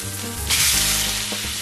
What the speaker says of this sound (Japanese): 3分ぐらい焼きましたので、これをひっくり返したいと思います。